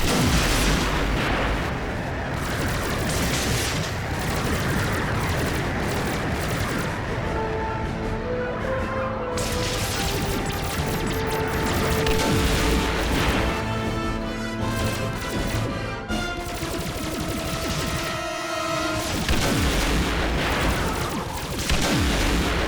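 Starship weapons fire in a Star Trek space battle, dense continuous booming blasts and crashes layered with whooshing energy bursts and tonal sweeps, loud throughout.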